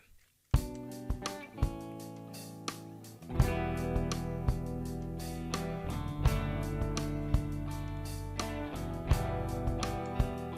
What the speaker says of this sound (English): here we have a guitar which was through a tweed, and this one was through a different cabinet, a 65 Verb